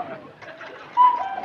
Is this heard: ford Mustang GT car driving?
no